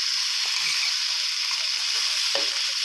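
Onion and chicken stir-fry in a pan, a loud, even hiss of frying running throughout, broken by a couple of soft scrapes of stirring.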